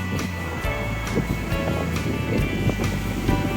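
Sea waves roll in along the Odesa shore on a sunny November day, a continuous surf wash with repeated soft breaking surges and some wind, no talking.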